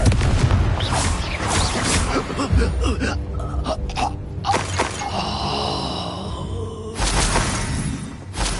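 Confringo fire-blast spell going off in Hogwarts Legacy combat, a booming burst amid a busy clash of spell impacts and effects, with grunts and gasps scattered through the fight.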